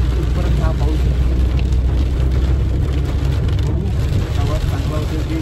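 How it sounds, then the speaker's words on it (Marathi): Inside a car travelling in rain on the Mumbai to Pune route, a loud, constant rumble of road noise and rain on the body fills the cabin without a break. "पाऊस दाखवतो. या पावसात आम्हाला जायचं आहे."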